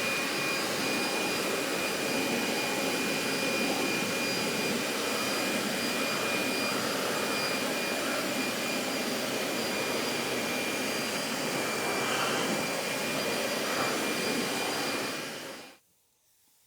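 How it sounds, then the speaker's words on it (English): A forced-air blower dries automotive plastic trim, roaring steadily and loudly at close range with a broad rushing whoosh, then cutting off abruptly near the end. "You can kind of rush that along with some forced air. Help it dry off quicker."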